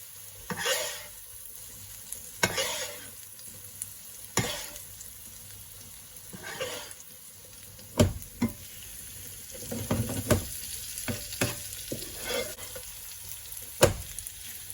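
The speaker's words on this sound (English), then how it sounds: "I'm going to start basting my steak now. With all that butter goodness." Steak sizzles in a pan as it is basted with butter using a small spoon, a low crackle broken by repeated scraping strokes and clinks. It is close and fairly quiet, with no talking.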